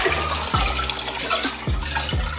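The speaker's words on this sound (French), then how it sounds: "je vais transvaser cette eau dans cet aquarium." Water poured from one container into a home aquarium, a loud continuous splashing gush close by with rhythmic glugging surges about every second.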